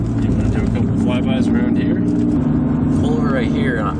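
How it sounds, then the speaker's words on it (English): An engine roars loudly and steadily as a car drives past and pulls up a hill, with a voice speaking over it. "I want to hear what that thing sounds like outside of the car"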